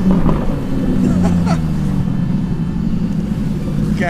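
Two sports cars, a Mercedes-AMG GT R Spider and a coupé, rumble past in the distance, their low engine drone steady and continuous beneath the loud cabin noise of a car on the road.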